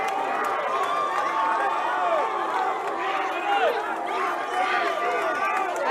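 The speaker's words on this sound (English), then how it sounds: "Got some officers kind of cheering, fist bumping." Police officers cheer and fist-bump amid a protest crowd on the fourth day of demonstrations in Atlanta, a dense, steady roar of many voices with rising shouts and whoops throughout.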